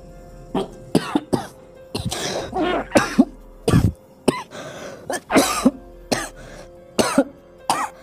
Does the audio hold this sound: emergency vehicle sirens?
no